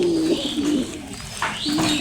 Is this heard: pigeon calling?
yes